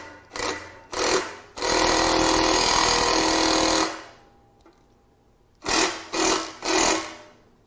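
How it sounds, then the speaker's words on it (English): Bursts from a power tool loosening exhaust manifold bolts on a GM 3.6L SUV engine: three short loud rattling hammer bursts, one long sustained run of about two and a half seconds, a quiet gap, then three more short bursts close up. "loosening with the power tool"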